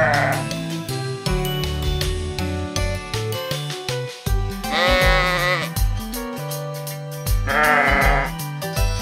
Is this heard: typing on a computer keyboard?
no